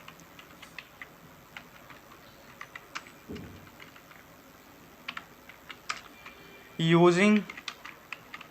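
Keys clack at a steady, uneven pace on a computer keyboard as C++ code is typed into a new file, with a short burst of speech partway through.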